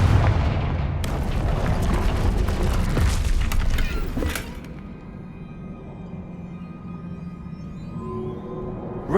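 Confringo blasting spell in Hogwarts Legacy, a loud booming explosion with crackling debris that rumbles for several seconds, then drops to a quieter lingering hum.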